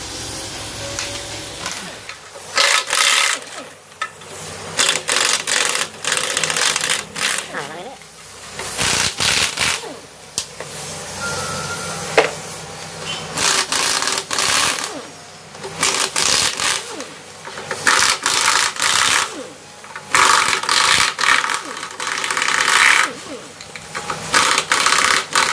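A wrench works 10 mm oil pan bolts loose on a 2000cc Toyota Corolla Altis, giving bursts of rapid ratcheting clicks and metallic rattles separated by short pauses. The sound is close and fairly loud.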